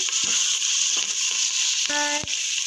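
Curry leaves and carrot pieces fry for biryani in a steady, close hiss of sizzling oil, broken by a short ringing clink near the end.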